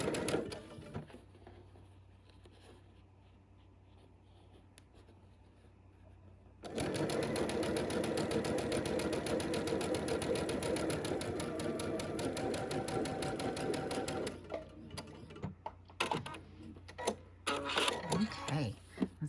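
A home sewing machine stitches quilt pieces for a butterfly quilt, starting after a quiet stretch with a steady, fast mechanical whir and rapid needle clatter, then slowing into short stop-start bursts near the end, with a person talking before it begins.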